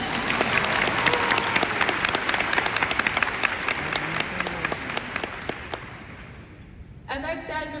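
A commencement audience claps for the graduating class of 2024, a loud burst of applause with distinct sharp claps that gradually thins and fades toward the end.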